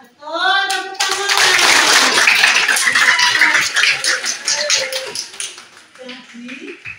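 Classroom of students clapping their hands together in a loud, fast burst that fades out, with a teacher's voice before and after.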